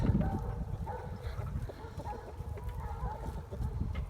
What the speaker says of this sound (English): Look at my chickens.